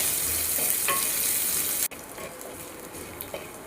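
Curry leaves sautéing in a pan for fish curry, a steady close sizzle and crackle with a sharp stir partway through, after which the frying softens.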